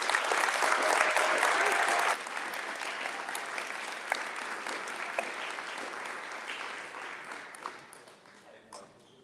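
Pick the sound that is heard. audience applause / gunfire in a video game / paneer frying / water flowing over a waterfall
audience applause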